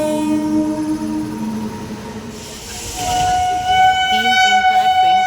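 Trains pass a railway crossing with a loud rumble of wheels and wagons, while sustained horn tones sound over the clatter, with voices heard faintly in the background.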